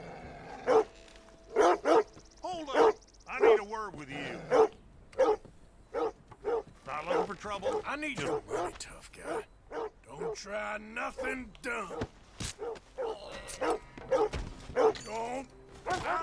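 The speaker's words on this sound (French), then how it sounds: "Le chien nous signale." In Red Dead Redemption 2, a dog barks in sharp, repeated bursts, sometimes yipping, mixed with thuds and other game sounds, while someone talks over parts of it.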